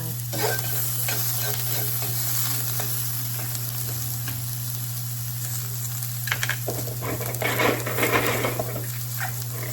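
Onions frying in a pan for stuffed shells and being stirred, a steady close sizzle with scraping stir strokes that grow busier toward the end, with no talking.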